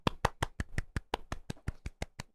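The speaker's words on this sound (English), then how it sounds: "We applaud." Steady hand clapping, about fourteen sharp claps in a quick, even rhythm, close and fairly loud with no talking over it.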